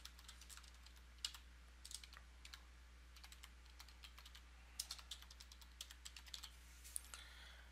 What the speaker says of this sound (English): I want to type in a website